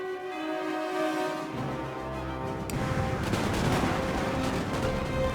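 In Napoleon: Total War, canister shot fires on musket infantry: a dense, crackling burst of gunfire and booms swells up after a quieter musical stretch and continues loud and rapid.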